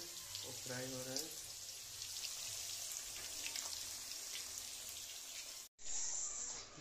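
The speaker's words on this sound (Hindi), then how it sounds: "मछली डाल दिया ऑयल में, वो फ्राई हो रहा है" Fish frying in hot oil gives a steady, loud, crackling sizzle throughout, with a brief voice near the start and a short break just before the end.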